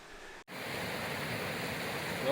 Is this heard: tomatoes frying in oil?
no